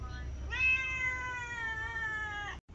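A cat in the Philippines gives one long, clear, drawn-out meow close by, rising and holding for about two seconds before cutting off, over faint background noise.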